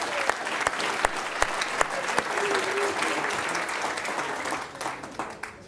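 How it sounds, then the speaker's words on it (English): Audience at the 2017 Business Excellence Awards gala dinner breaks into steady, full-room applause, sustained for several seconds with sharp individual claps standing out near the microphone. "Big round of applause for everybody that's passed."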